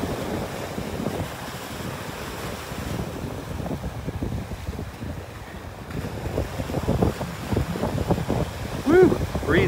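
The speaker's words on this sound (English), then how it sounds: "Breezy up here." Strong wind gusts across the microphone on a beach by the ocean, a loud, roaring rumble with surf beneath it, easing briefly midway before building again, with a person talking through it.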